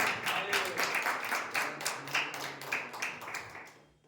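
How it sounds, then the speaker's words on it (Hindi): A church congregation claps loudly in a quick, steady rhythm, with a few faint voices underneath before the clapping stops abruptly. "प्रभु के नाम में जोरदार ताली बजा के हम उसका स्वागत करें"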